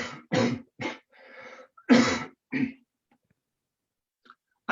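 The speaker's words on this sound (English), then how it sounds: "I have to cough, hold on." A man coughs in a rapid series of about six harsh bursts over a few seconds, then falls quiet with a faint breath near the end.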